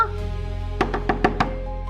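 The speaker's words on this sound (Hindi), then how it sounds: "सारा यार दरवाजा खोलो।" Five quick knocks rap on a door in a steady run over a low background hum, with no voices during the knocking.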